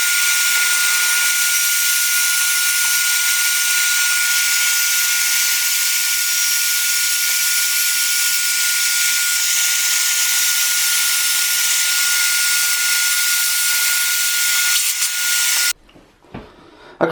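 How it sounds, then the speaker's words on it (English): A loud, steady, high-pitched power drill whine drilling holes into a wall for a shower screen blends with a vacuum's roar for most of the stretch, then cuts off abruptly near the end. "I'm going to turn the hoover on and I'm going to start drilling those holes."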